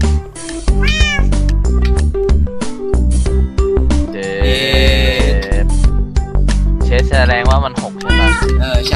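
Cats meowing in the video game Minecraft during a build battle, repeated pitched meows in quick succession, loud and close, mixed with game sounds and layered over talking.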